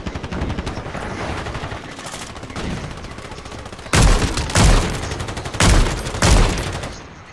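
Automatic gunfire from a new weapon in Call of Duty, rapid bursts of shots rattling over a busy game soundscape, with several louder, heavier volleys arriving in a regular run near the end.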